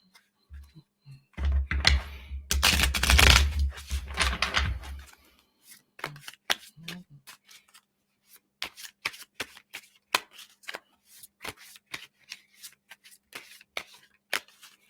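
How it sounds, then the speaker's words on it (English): Tarot cards being shuffled by hand: a dense riffling burst of a few seconds, then a long run of separate soft taps and flicks as cards are gathered and slid back in, close and fairly quiet. "I just shuffle them back in"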